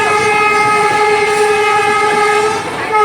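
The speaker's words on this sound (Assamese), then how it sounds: "ঘৰৰ অভিমুখে আমি ট্ৰেইনত আহি আছোঁ" Passenger train running on its way home after Puja in Jorhat, Assam, with a steady loud rumble and sustained horn-like tonal drone lasting throughout, heard from inside the carriage.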